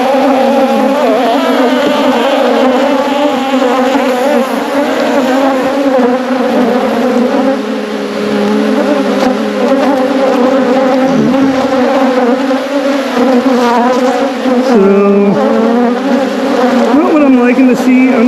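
Honeybees buzz loudly and continuously at close range while a beehive is opened for inspection, a dense steady drone with shifting pitches that runs throughout.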